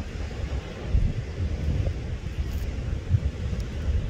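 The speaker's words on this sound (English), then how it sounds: "Nice wind." Steady wind rolls over the microphone outdoors on a warm, slightly cool coast where waves come in, a continuous low rumbling buffet with no voices.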